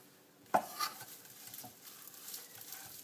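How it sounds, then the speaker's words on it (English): A kitchen knife cuts through a balled-up bunch of cilantro with one sharp, close chop, followed by faint scraping and light rustling on the board. "Wad it up into a ball and run your knife through it."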